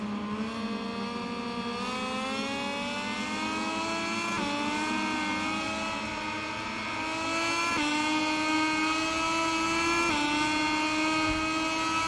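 A Moto2 motorcycle in the MotoGP 21 video game at Silverstone runs alone with a loud, continuous high-pitched engine whine. Pitch drops under engine braking, then climbs again with several gear-change steps as it accelerates.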